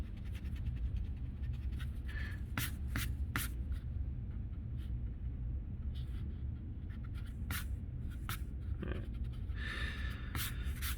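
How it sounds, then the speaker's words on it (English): Eraser rubbing back and forth across paper to remove pencil grid lines, a soft steady scrubbing texture with a few brief sharper scrapes, close and quiet with no talking. "you're just going to go in with an eraser and very carefully try to get rid of all those lines"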